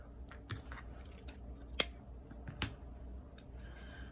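Scissors cut a long piece of twine for a crocheted 3D fall sunflower, giving a few soft, crisp snips and clicks close by in a quiet room.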